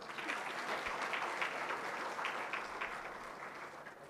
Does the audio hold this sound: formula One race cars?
no